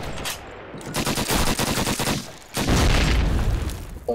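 Sustained machine gun fire in the WWII shooter Call of Duty: United Offensive, loud dense rapid bursts with a brief pause around the middle, set against battlefield background noise.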